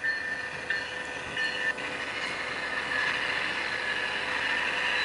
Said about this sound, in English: Here comes that train in Pacific, westbound.